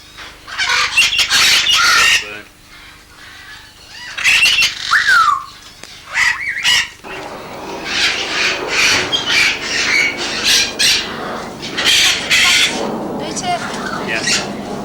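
Young red-fronted macaws squawk loudly and harshly in repeated bursts, several birds calling close by in overlapping raspy cries, with a voice speaking among them.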